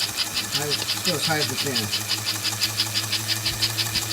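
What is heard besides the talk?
train engine running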